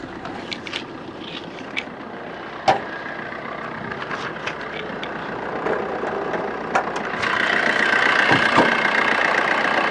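A 2013 diesel Maruti Dzire idles with a steady, moderately loud mid-range hum that runs throughout, with a few light clicks and knocks on top and a slight rise in level toward the end.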